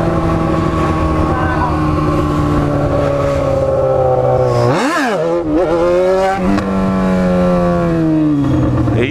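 Yamaha XJ6 motorcycle with four exhausts accelerates nearby. A loud, steady engine drone swoops sharply up and down in a quick rev burst midway, then settles back into a strong, even hum.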